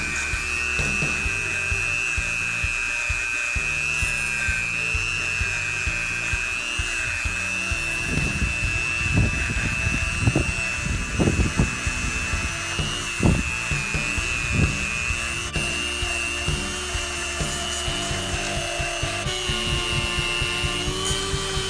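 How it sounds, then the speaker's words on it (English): A Dremel rotary tool with a small bit whines at a steady high pitch while working into crevices of a Subaru engine, with intermittent grinding and scraping bursts as the bit contacts metal, no talk. "I'm going to go ahead and use that Dremel bit. I got the smallest little attachment. I'm going to work it into these small little crevices."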